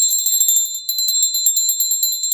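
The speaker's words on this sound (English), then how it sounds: "it's a bell, and I'm going to ring it" A cleansing and healing bell rings in a steady run of bright, shimmering strikes, each clear metallic tone sustaining high and close with a rhythmic pulse and no voices.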